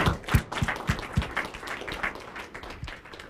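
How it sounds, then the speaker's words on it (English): An audience at an entrepreneurship lecture applauds the speaker from SeaLion Energy. A few sharp, close claps stand out at the start, then a looser spread of clapping continues at moderate volume. "please join me in giving Dr. Hyderkhan a round of applause"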